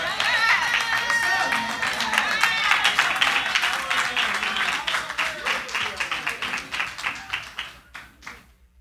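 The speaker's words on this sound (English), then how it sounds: "Come on, clap your hands again." Church congregation clapping hands during a Sunday worship service, a dense wash of applause with shouts and voices mixed in, fading to scattered individual claps near the end.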